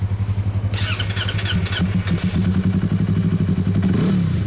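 A motorcycle engine, one of a 2013 Honda VTR-F, 2012 Suzuki GSR250 or 2017 Yamaha YZF-R25, idles with a throbbing low pulse, then blips and revs briefly with clattery mechanical noise, close and steady.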